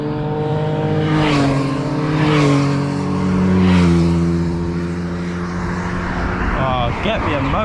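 Cars speed past a cyclist on a steep road, several engine roars rising and falling in quick succession close by, with wind rushing across the microphone.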